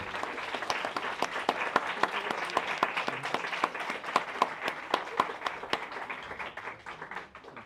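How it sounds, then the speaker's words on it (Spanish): An audience at an academic talk on indigenous community rights gives sustained applause, many hands clapping in a steady, crisp patter that tapers off near the end. "Un fuerte aplauso, por favor."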